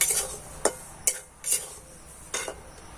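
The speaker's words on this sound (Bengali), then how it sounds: "এই সমস্তটা দিয়ে খুব ভালো করে নেড়ে নেব।" A spoon scrapes and clinks against a bowl while stirring semolina batter mixed with salt, sugar and chopped onion, a few sharp metallic strokes spaced unevenly over a quiet background.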